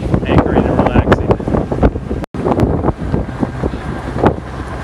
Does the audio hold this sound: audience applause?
no